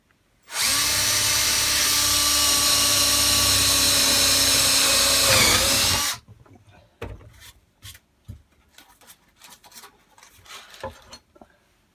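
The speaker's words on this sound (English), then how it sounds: "I always recommend that you pre-drill everything because it keeps the wood from cracking." A power drill whirs steadily for several seconds as it pre-drills into a wooden table, then stops, leaving scattered light knocks and handling noises.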